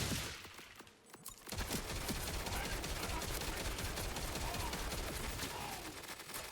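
Rapid, dense gunfire from a legendary gun in the video game Borderlands 4, a continuous loud fusillade of overlapping shots after a brief pause.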